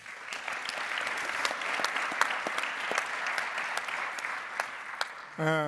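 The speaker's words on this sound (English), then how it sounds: "So also an applause for him." An audience applauds at a business talk on the hydrogen economy, a steady wash of many hands clapping at moderate distance for several seconds, ending as a voice begins speaking.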